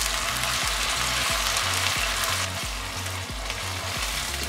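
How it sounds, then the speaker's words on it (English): Onion, garlic, ginger and tomato sauce fry in a copper pot for chicken and peas curry, a dense close sizzle under a regular rhythmic tapping and low humming tones. "going to saute our onion until they get caramelized"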